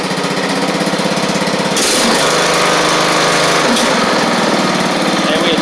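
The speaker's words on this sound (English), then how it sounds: "just turn the blades on so y'all can see" A Craftsman LT1000 riding lawn mower runs loud and close with its blades engaged, a steady buzzing engine drone that thickens into a heavier roar as the cutting deck spins up.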